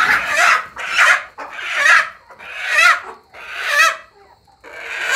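Free-range hill chickens close by, giving about five loud, raspy clucking squawks in a row with short gaps between them.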